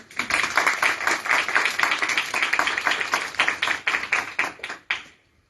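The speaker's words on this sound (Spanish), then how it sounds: "un aplauso por favor" A room full of people gives steady, dense applause to a guest poet at a university event in Talca, Chile. The clapping is lively and continuous, then dies away abruptly near the end.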